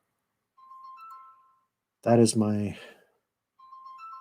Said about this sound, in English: that is my phone ringing.